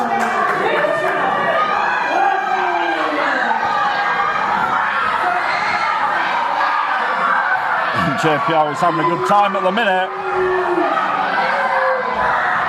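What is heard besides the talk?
wrestling crowd jeering a wrestler ringside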